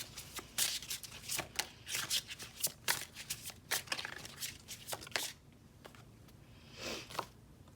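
Tarot cards are shuffled and drawn from a deck up close, with a rapid series of crisp riffling slaps and flicks that fade into softer sliding and handling toward the end.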